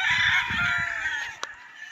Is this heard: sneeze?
no